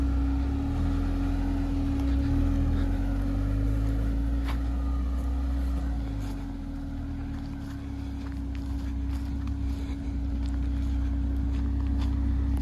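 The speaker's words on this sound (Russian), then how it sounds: "Лада Нива." A Lada Niva engine runs steadily on an abandoned forest road, a constant low droning hum with a strong steady tone, occasional faint clicks and knocks over it, no speech.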